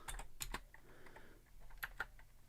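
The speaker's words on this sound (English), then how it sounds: "we're going to type the keyboard name" Quiet clicks of typing on a hand-wired computer keyboard while entering commands, with irregular key taps scattered across the stretch and a few sharper strikes, faint and close.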